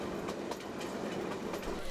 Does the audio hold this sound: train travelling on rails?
yes